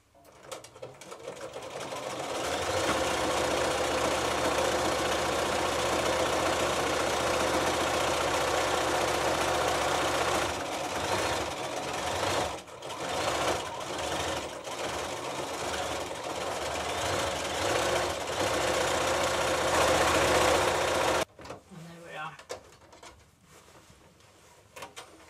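A sewing machine stitches the back onto a cushion, whirring steadily and rapidly for about twenty seconds with a brief slowdown midway, then stops abruptly and leaves a few soft handling clicks.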